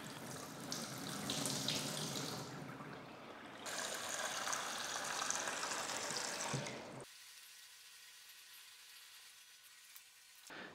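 Water pours through a LARQ PureVis pitcher filter on its first rinse, a steady close splashing stream like a filling sink that stops partway, leaving a quieter trickle and faint hiss.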